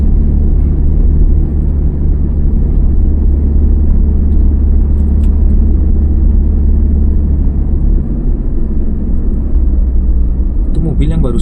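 A car drives through busy but flowing traffic on a road toward the Puncak area near Bogor, a steady loud engine and road rumble heard from inside the cabin throughout.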